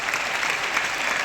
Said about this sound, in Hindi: जरा उन पूर्वजों के लिए ताली बजा दो